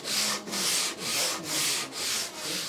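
Rhythmic back-and-forth hand sanding of wood with coarse 80-grit sandpaper, five or six steady rasping strokes, close and fairly loud, with no talking.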